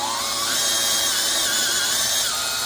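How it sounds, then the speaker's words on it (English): A power drill boring a hole through a guitar neck headstock, a continuous high whining bit grinding steadily through the wood at close range with no pauses. "And we drill through"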